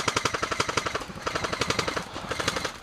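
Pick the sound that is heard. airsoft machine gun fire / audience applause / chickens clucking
airsoft machine gun fire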